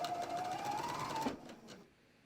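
Sewing machine stitching the inseam of yoga pants, a steady close whir for over a second before stopping, followed by a few faint handling sounds.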